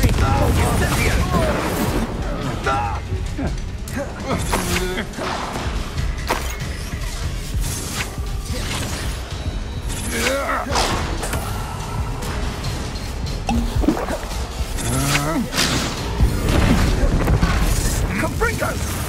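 Spell blasts from the Confringo curse in Hogwarts Legacy on PS5: a loud, dense barrage of explosive booms, crackles and impacts layered over constant game noise and music, with no gaps throughout.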